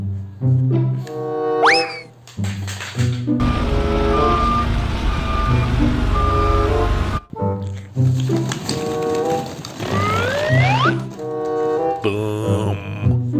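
A toy dump truck sounds a run of electronic reversing beeps, repeated evenly and close, mixed with playful toy-vehicle sound effects and boinging tones.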